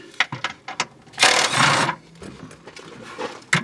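An impact gun fitted with a U-joint and extension works on a bolt behind the shock of a 2022 Polaris RZR Turbo R. A short, loud burst of rattling hammering comes between scattered lighter mechanical clicks and knocks.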